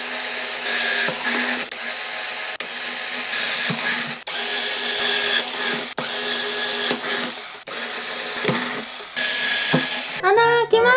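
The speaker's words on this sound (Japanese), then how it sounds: "じゃあこれを元にもうちょっと大きい穴にしていきたいと思います。 ドリルの先を変えました。" A power drill fitted with a larger bit bores into a watering can, whining steadily in several sustained bursts with short pauses between them, loud and close.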